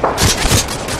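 A stun grenade detonates in a video game, giving two or three quick, muffled bursts with hissy crackle across about a second. The sound is loud and close throughout, with no other sounds standing out.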